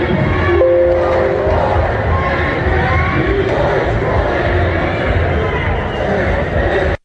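A large crowd chants in unison, a dense, sustained roar of many voices holding steady and loud throughout before cutting off abruptly at the end.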